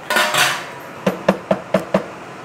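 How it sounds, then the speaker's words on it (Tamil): A metal lid scrapes and rattles onto a pot, then settles with several quick clinking taps as it seats against the rim. "மூடி வச்சிருவோம், கொதிக்கட்டும் நல்லா"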